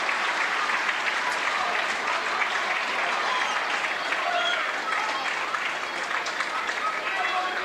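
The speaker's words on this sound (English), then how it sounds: "A warm round of applause for Jack Fletcher." Sustained applause from a football crowd at a Manchester United U21s v Real Madrid U21s match, steady dense clapping throughout with no pauses.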